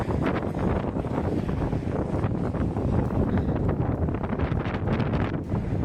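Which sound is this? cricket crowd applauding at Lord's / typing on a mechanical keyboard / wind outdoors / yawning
wind outdoors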